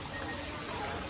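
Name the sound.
water flowing at grotto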